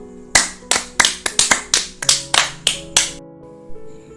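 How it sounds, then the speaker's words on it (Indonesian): Children in a classroom clap hands in about ten sharp, bright claps in an uneven rhythm, close and loud, then stop, leaving a faint hum. "Maka untuk itu beri tepuk tangan lagi nak untuk teman kita William"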